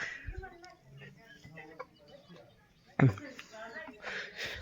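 Hens cluck in short bursts with a sharper squawk midway, under ongoing talk and outdoor village morning background noise.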